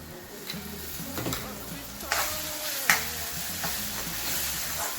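Ginger-garlic paste hits browned fried onions in a pan for a Maharashtrian brinjal masala, giving a steady close sizzle with scraping stir strokes and a few sharp clinks of a spoon against the pan.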